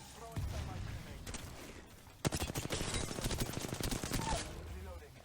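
Automatic gunfire in Apex Legends, rapid bursts of shots rattling close and loud, a sharp crack leading into a sustained volley, with a voice talking over it.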